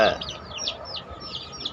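Several chickens cluck in quick, repeated high calls, fairly close, over a soft steady background.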